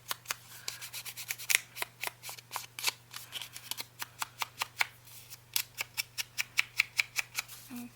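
Scissors trim through paper in a steady run of crisp, close snips, about two to three per second, with no voices.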